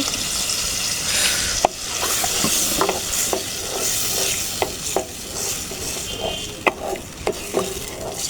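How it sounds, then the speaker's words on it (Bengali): Spices with cashew paste and sour yogurt being stirred and fried for a whole cauliflower korma, a continuous close sizzle broken by repeated scraping and knocking strokes of the spoon against the pan. "সমস্ত মশলা আমি এখন খুব ভালো করে নেড়ে আবার কষিয়ে নেব"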